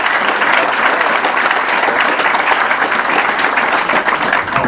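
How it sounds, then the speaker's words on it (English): Loud, dense applause from a university audience at a talk, a thick continuous roar of many hands clapping close by, steady throughout with no speech over it. "So let's clap it up for Thomas."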